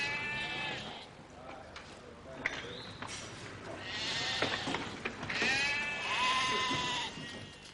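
Sheep bleating at an autumn livestock auction in Cumbria: several overlapping wavering bleats, some near and loud, others farther off, over a busy background of shuffling hooves and crowd noise.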